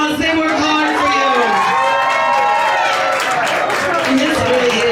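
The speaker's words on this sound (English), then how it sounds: "Give them a round of applause" A burlesque show audience roars with cheering, whooping and clapping, loud and continuous, with many voices shouting over the applause.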